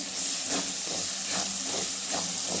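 Masala with red chilli powder roasting in a pan for a Marathi home recipe, giving a steady hiss and sizzle with soft rhythmic scraping pulses, close and continuous, with no talk.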